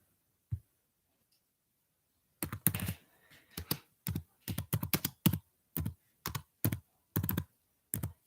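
Rapid bursts of key clicks on a computer keyboard, typed in short irregular runs with brief pauses, close and fairly crisp after a near-silent start.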